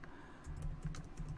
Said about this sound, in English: And then I'm going to start typing in keywords.